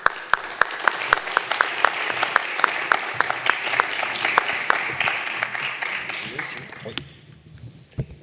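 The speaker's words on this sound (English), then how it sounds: "you can give them a good round of applause" An audience applauds at a media forum during the World Money Fair 2025 for the Monnaie de Paris team. Steady, dense clapping fills the room for about seven seconds, then fades to quiet.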